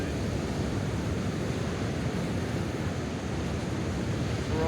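Ocean waves break on the shore at Caloundra at sunrise under storm clouds, a steady, loud, broadband wash of surf with wind noise and no voices.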